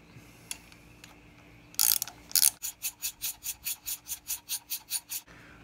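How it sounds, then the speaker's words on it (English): A ratcheting box-end wrench turns a nut onto a threaded stud, giving a close, crisp run of about a dozen evenly spaced ratchet clicks after a couple of brief metallic scrapes. "I'm gonna use a ratcheting box end wrench."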